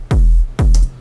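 Two heavily saturated, boosted Preggers kick drum hits from an Ableton house production, each a booming low thud with a distorted, sustained tail, playing alone in an even rhythm.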